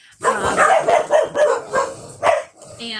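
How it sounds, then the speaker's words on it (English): Dogs bark several times in quick succession, loud and close, with short yips and a whimpering tone between the barks. "pardon the dogs"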